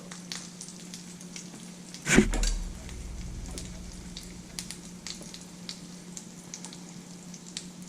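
An egg fries in a pan for a basted egg, giving a steady soft sizzle with a brief louder burst partway through, then continuing quietly with small crackles and pops.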